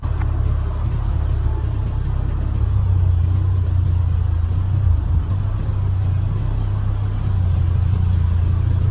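Car engine rumbling steadily while climbing a slippery, rain-wet road, a loud, close, low drone that swells slightly in the middle and carries no talk.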